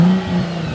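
A 2001 Chrysler Prowler's engine revs through its dual exhaust, a brief loud mid-pitched surge that dips and swells again close by, without talking.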